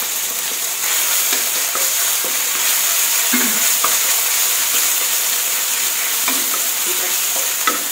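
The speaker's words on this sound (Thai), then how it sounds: "ผัดกระเทียมให้เหลืองหอม" Garlic and minced pork stir-fry in a hot pan with a steady loud sizzle, while scattered scraping stir strokes come through close up.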